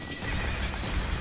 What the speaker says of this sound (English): White horse fleeing from the town?